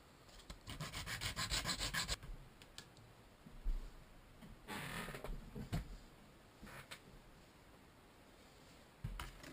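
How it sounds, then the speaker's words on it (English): Quick hand sanding of a scrap wood offcut on a jerry can build, heard as quiet bursts of rhythmic scratchy rubbing with pauses between strokes and a few light clicks. "just give it a quick sand before doing your cut"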